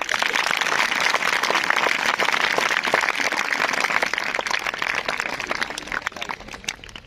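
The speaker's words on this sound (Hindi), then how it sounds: "तो ताली जोर से हो जाए।" Children at a magician's sleight-of-hand show clap loudly together, a dense, sustained burst of applause filling the room and tapering slightly near the end, with no talking.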